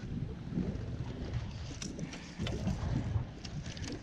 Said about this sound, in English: a little bit more wind in this spot now